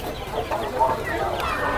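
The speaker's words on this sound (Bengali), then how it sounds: "এগুলা কি জাতের মুরগি ভাই? এগুলো কাদানাথ।" Kadaknath chickens cluck in a short, busy burst at a poultry market in Kaptan Bazar, the calls blending with nearby background voices.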